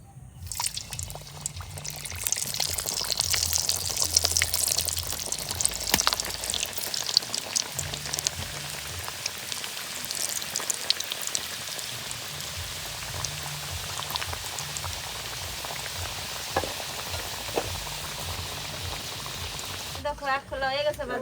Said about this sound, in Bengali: এবার আর 1 খোলা ভেজে নিচ্ছি